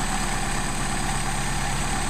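A Mercedes 190SL engine idling on self-adjusting carburetors, a steady, even, close hum with a slightly raised idle speed and no talk over it.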